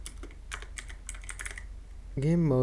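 Quick clicks on a PC keyboard, a burst of close keystrokes in an uneven rhythm, followed by a rising electronic chime near the end.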